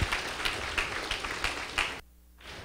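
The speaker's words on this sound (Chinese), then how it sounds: "再次掌声一次来。" A lecture audience breaks into another round of applause, a brisk, full clatter of hands that stops abruptly, followed by quiet room tone.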